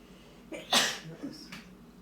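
A single sharp sneeze from an older person during a relaxed indoor interview, with a short intake of breath before it and a faint follow-up breath or noise just after.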